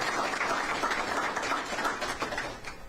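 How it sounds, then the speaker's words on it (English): Audience clapping during a governor's news conference in St. Cloud: a fairly quiet, steady patter of many hands lasting a few seconds with no speech over it. "you can clap for that."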